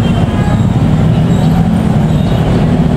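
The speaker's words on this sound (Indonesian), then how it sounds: "Baru saja melintas langsung di stasiun Cikampek, kereta api Tawang Jaya Premium ya." A Tawang Jaya Premium passenger train runs straight through Cikampek station without stopping, its loud, steady rumble of wheels and carriages filling the whole stretch up close with no talk.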